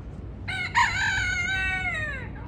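A fighting rooster in Kuwait gives one clear, full crow lasting nearly two seconds, close and loud over faint background noise.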